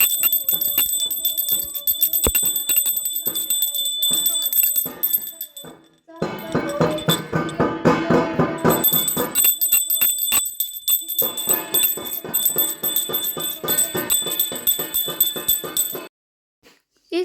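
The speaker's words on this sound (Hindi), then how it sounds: "और घंटी भी बजाई जाती है, शंख भी बजाया जाता है" A hand bell rung rapidly and continuously during a Tulsi Vivah ritual at home, loud and close, with a short pause midway and a brief louder, denser passage that may be a conch blown alongside.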